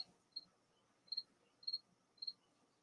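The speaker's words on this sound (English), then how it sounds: "I hear a cricket. I hear a cricket too." A single cricket chirps indoors, four short, sharp bursts spaced roughly half a second apart, faint and alone in an otherwise quiet room.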